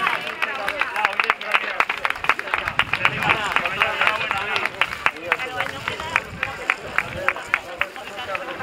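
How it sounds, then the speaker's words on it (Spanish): Loud applause from an awards-ceremony crowd for a special prize winner at a Zaragoza running race trophy presentation, dense clapping with sharp individual claps standing out, sustained throughout with faint crowd murmur underneath. "un fuerte aplauso para Isaías Vargas"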